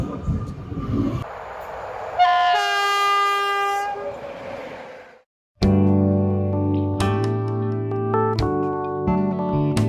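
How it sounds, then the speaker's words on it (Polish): A train pulls into a station on the line toward Otwock. A loud horn blast comes first, then rumbling and the hum of the cars up close, with tonal whines from the motors and a few clanks. "Jedzie nasz pociąg, jedziemy na start drugiego szlaku."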